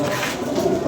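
A pigeon coos nearby in a short, soft, low-pitched throaty call.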